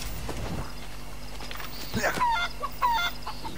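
Chickens in the video game Assassin's Creed Rogue give a few clucks and squawks in short bursts over a steady game background, with a voice talking briefly.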